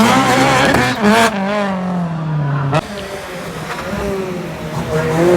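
A rally car races through a stage at Cadwell Park in an end-of-season event, its engine loud and close with rising and falling revs and gear changes, under a commentator's continuous talk.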